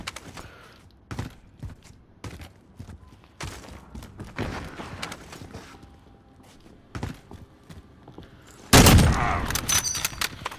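Sniper rifle shots in a Call of Duty Modern Warfare match, sharp sporadic cracks with footsteps and thuds between them, ending in a louder burst of fire near the close.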